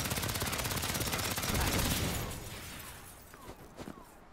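Rapid dual-wielded gunfire in Saints Row (2022), a dense loud burst of automatic shots for about two seconds that then fades into scattered fainter pops.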